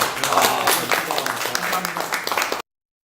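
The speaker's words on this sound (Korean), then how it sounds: "우리 회장님과 총무님한테 박수 한 번 보내고서" A crowd applauds steadily for a few seconds, dense clapping filling the room, then it cuts off abruptly.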